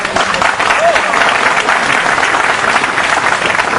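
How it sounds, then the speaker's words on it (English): A crowd at a pool match between Alex Pagulayan and Pham Tuan Ngoc claps in a loud, sustained burst of applause after a break shot. "the crowd clapping their approval"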